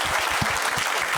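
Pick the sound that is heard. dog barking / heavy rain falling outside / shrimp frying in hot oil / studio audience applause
studio audience applause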